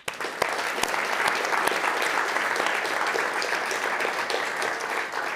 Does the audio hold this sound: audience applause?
yes